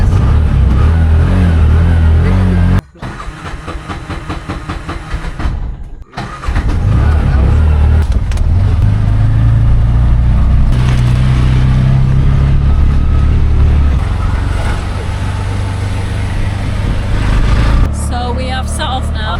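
A tuk-tuk in Sri Lanka setting off, its small engine cranking and catching after a brief cutout, then revving and droning steadily as it pulls away, loud and close with rattling and road noise.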